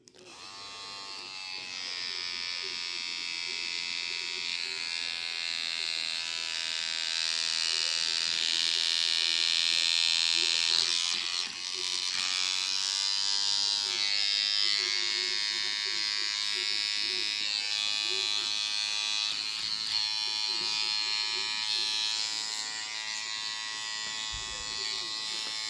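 Continuous high electric buzz of a Peak Solice Mini wireless tattoo machine running at setting 7, close and steady with a slight pitch shift midway, while a person talks over it.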